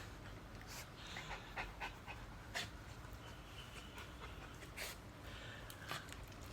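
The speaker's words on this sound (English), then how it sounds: "maybe you'll have a dog coming in to play yoga with you today as well" A dog pants softly and rhythmically during a yoga class, the faint quick breaths running under a low steady room hiss, with small scattered clicks and no talking.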